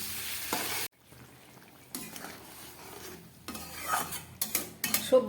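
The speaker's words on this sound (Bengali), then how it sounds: "এবারে আমি এর মধ্যে একটু জল দিয়ে দেবো, খুব সামান্যই দেবো" Spice paste for a Bengali data-and-paneer vegetable dish sizzles in the pan as a little water goes in, with loud frying bursts, a brief pause, then renewed crackling and scraping stirs building toward the end.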